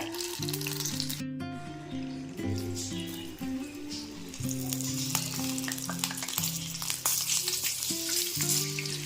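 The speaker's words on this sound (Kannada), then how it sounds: "ಈಗ ಇಲ್ಲಿ ಅಂಥ ಕಾರ್ನ ನಾನು ಒಂದೊಂದಾಗಿ ಸೊ ಸ್ವಲ್ಪ ಹಾಕೋತೀನಿ ಎಣ್ಣೆ ಕಾದಿದೆಯಾ ಅಂತ ನೋಡೋಣ" Corn kernels fry in hot oil with a continuous crackling sizzle and occasional stirring, set under background music with no speech.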